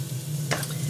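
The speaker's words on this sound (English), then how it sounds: "So I've got my garlic and ginger frying away" Steady close sizzling of garlic and ginger frying in a hot pan, with a brief stirring scrape partway through.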